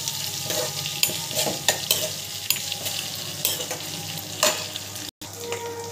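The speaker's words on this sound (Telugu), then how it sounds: "ఆనియన్స్ కొంచెం ఫ్రై చేసుకోవాలి." Onions frying in a pan, a constant sizzle broken by sharp clinks and scrapes of a spoon stirring against the pan at irregular intervals, close and fairly loud.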